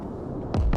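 Artillery shells explode in the Broken Arrow video game. Two heavy, booming impacts land in quick succession over a steady battle rumble, and no one speaks.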